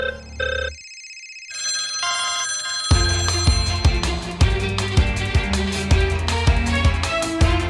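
A smartphone ringtone plays loudly with no talk: a few bright melodic chime notes, a short pause, then a sustained tune that becomes a steady, beat-driven melody with a low pulsing bass.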